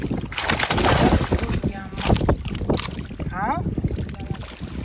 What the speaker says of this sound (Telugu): ఈ గాలి అనేది చూడండి సో ఈ విధంగా గాలి అలలు ఎక్కువగా వస్తున్నాయి